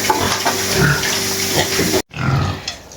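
Pigs grunting in a farm enclosure on a rainy day, a few close snorts and grunts over a steady wash of rain and dripping water, with a brief cut partway through.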